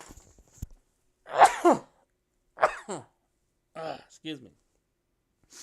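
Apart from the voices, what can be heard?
sneeze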